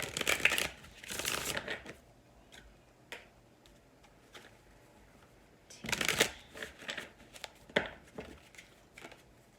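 Tarot cards riffle and shuffle in several bursts, crisp papery flutters close by with quieter taps and pauses between, no talking.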